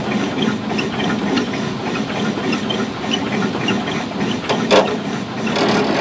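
A century-old vehicle's engine turns over and runs, a close, steady mechanical chugging with hissing and rattling throughout and a brief louder knock near the end, with no talk.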